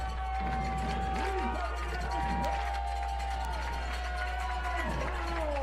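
Steady roar of a college Division III football crowd at Ohio Northern versus Franklin College, a dense continuous wash of cheering and chatter with a low hum, filling the whole stretch without pause.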